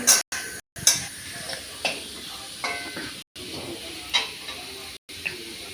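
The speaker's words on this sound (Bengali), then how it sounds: "এখানে পেঁয়াজ কেটে ভাজা হচ্ছে, লাল করে ভাজা হয়ে গেলে তুলে নেব" Chopped onions fry in a pan with a soft continuous sizzle, broken by a few scrapes of stirring and brief dropouts in the sound.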